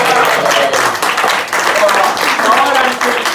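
A comedy-club audience applauds and cheers in a loud burst of clapping at a stand-up show, with a voice talking over it.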